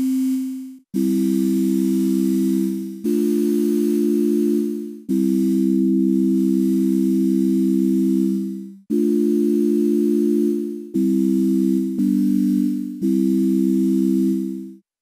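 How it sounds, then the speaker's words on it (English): A synthesizer tone, a sine wave mixed with noise, sounds in repeated held notes with a soft noisy hiss, each starting abruptly and fading, separated by brief gaps. "leave the first oscillator set to produce a sine wave and set the second oscillator to produce some noise"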